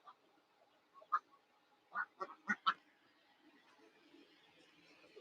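A handful of short duck quacks, a couple of separate calls, then a quick cluster of four, fairly faint against a quiet background.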